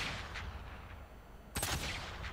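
A double-barreled sniper rifle fires in the video game Star Citizen, giving a single sharp, punchy shot with a loud crack and short tail, set against a low steady ambient hum.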